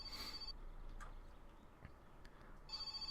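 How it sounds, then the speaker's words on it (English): A telephone rings in the My Summer Car video game, two bright electronic ring bursts at the start and end separated by a quiet gap, with faint knocks in between. "Oh, hello, it's the phone."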